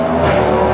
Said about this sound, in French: c'est la Cadillac là qui vient de passer, la numéro 12.